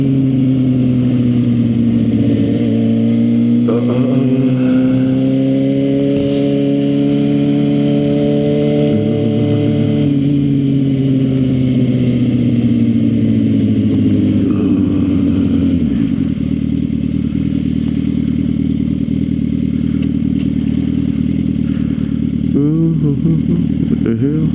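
A Suzuki GSX-R 750 sport bike cruises through traffic on a commute, its engine droning loud and close as it pitches up and down, with wind rush, a shift near the middle and a rider's voice over it.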